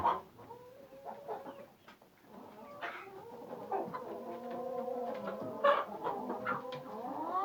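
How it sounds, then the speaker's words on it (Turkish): Several chickens cluck and murmur nearby in an irregular, overlapping stream of short calls, moderately quiet with no talking. "Tavuklarımız."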